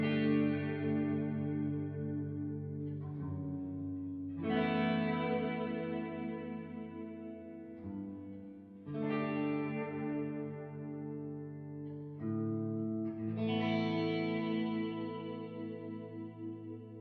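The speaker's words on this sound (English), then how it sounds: "Now we're also going to record reverb independently." Guitar played through an Axe-FX III with reverb, sustained chords ringing out in four phrases, each decaying into a lingering wash before the next strike; processed tone with chorus-like shimmer, no voices.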